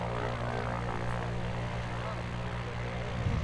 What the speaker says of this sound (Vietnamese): Tôi chưa bao giờ bay trên một chiếc máy bay như thế này